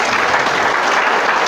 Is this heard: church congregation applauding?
yes